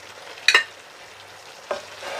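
Rice being stirred into a stuffing mixture for courgettes with feta: two short, soft spoon scrapes about a second apart, the first slightly louder, over quiet kitchen background.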